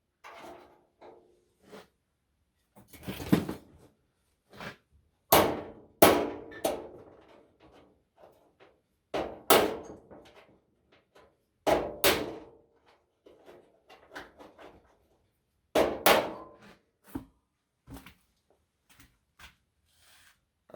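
Sharp metallic hammer strikes on a nail driven against a stuck rod, coming in irregular clusters of loud, close impacts separated by quiet pauses.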